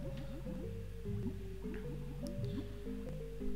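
Water level rising in the video game Banjo-Kazooie, heard as bubbly, gurgling liquid effects layered over a steady low game hum and soft melodic tones, continuous and moderately quiet.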